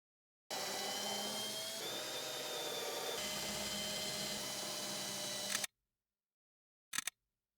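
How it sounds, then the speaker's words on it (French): A drill bores through the top rail of a stair railing into a plasterboard ceiling: a loud continuous whirring run of about five seconds with a shift in tone, then silence and a brief final burst. "Au plafond, je perce la lisse haute à travers le placo."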